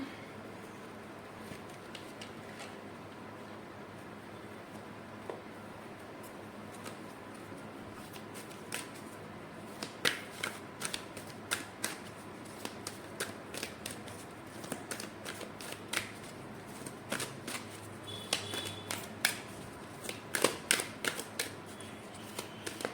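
Oracle cards being shuffled by hand, starting quietly and building into a long run of crisp, rapid riffling flicks and snaps, close up with no voices.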